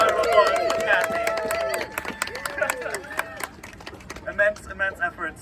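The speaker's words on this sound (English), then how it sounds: "huge round of applause for Kathy" A small outdoor group claps for Kathy at a community walk-and-talk at Bedford Gore Triangle in Brooklyn, with scattered close hand claps and voices and cheers mixed in throughout.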